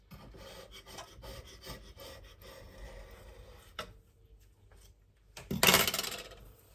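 Build-up being scraped off an AGA cooker, heard as rapid close rasping and rubbing strokes that pause, then end in one louder harsh scrape, with no talking.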